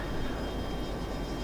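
Steady aircraft engine drone from the F22 Total Air War flight game, with at least two planes in the air, a continuous broadband roar holding level throughout with no talk.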